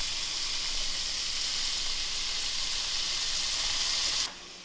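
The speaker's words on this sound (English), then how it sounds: "we'll throw the bacon in and get that starting to cook" Bacon frying in olive oil in a saucepan gives a loud, steady, close hiss of sizzling fat that holds constant, then drops off abruptly near the end; no voices.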